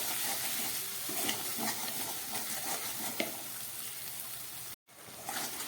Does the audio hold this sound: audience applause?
no